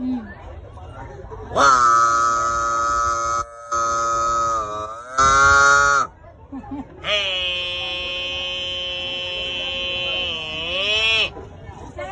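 Two long, drawn-out bellowing moos are voiced by a man imitating a buffalo at the Badami Banashankari temple fair, loud and near, with a short break between them and faint crowd noise underneath.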